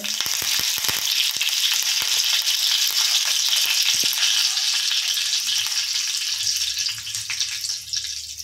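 Curry leaves frying in hot oil in a kadhai while tempering chutney, giving a loud, steady crackling sizzle with scattered sharp pops, continuous throughout and easing slightly near the end.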